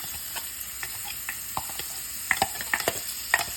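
Onion frying in a pan while a spoon stirs it, a soft steady sizzle with scattered light scraping clicks and taps that grow sharper toward the end.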